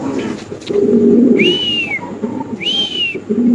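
Lahori pigeons calling nearby, low throaty cooing under background chatter, broken by two clear rising-and-falling whistles, loud and close.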